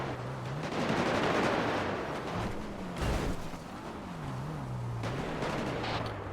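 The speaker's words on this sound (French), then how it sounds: "Ça tire vers nous. Ça nous fait des tirs de sommation." Shots ring out toward the players in a video game shootout, with rumbling gunfire bursts and a sharper crack midway, over a continuous droning background and no speech.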